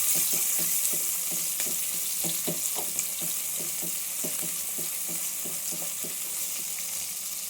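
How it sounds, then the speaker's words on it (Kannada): Sliced onions frying in hot oil in a pan for mushroom dum biryani, a steady close sizzle with repeated soft scraping stirs throughout. "ಈರುಳ್ಳಿ ಹಾಕ್ತಾಯಿದ್ದೀನಿ."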